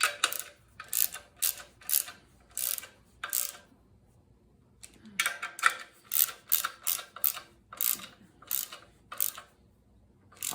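A hand ratchet snugs bolts on a Triumph TR6 engine during an engine build, giving rapid bursts of clicking, several separate runs of pawl clicks with short pauses between them, close and clear.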